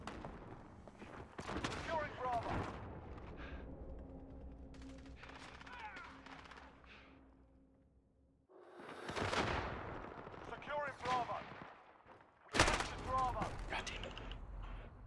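Gunfire in the Modern Warfare shooter game, bursts of shots scattered through a busy multiplayer match, loud and close, mixed with game sound effects and footsteps.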